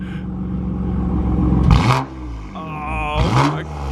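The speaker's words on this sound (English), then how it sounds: "Show you my new exhaust. This is his new exhaust." A BMW M2 Competition with a new aftermarket exhaust revs hard twice up close, each loud surge climbing and dropping away, with a steady idle rumble between and around the bursts.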